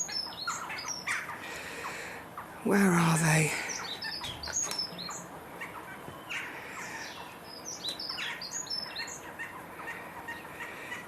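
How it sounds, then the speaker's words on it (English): Sparrows chitter in an olive tree, with scattered high chirps and tweets at a moderate distance through a quiet garden. A brief louder squawk and a short spoken question break in partway through. "The sparrows were chittering away up in the olive tree just a moment ago"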